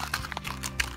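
A few quick hoof clops from a pony at a slow walking pace, fairly close, over a steady low background hum.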